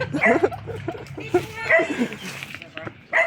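A dog barks and yips in short bursts while people talk close by.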